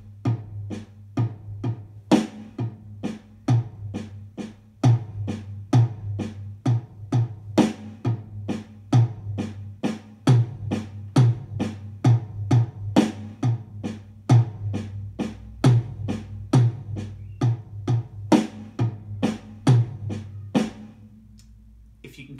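Afro-Cuban Nanaigo drum groove for beginners, with loud accented hits over soft ghost notes in a steady repeating pattern, played alone at a moderate tempo.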